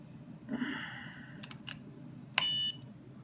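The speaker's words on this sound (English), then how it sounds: "I like this beeping." An Innokin Z Biip all-in-one vape kit gives a short electronic beep, preceded by a soft inhale through the mouth-to-lung device and a couple of faint clicks, all close and quiet.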